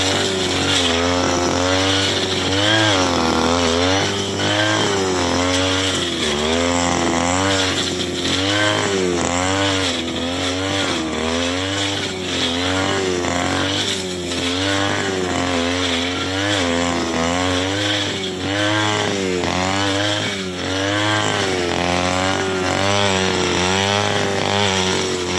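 A grass cutter's small engine drones loud and close without a break as it cuts thick grass on a vacant lot, its buzzing pitch wavering steadily under load.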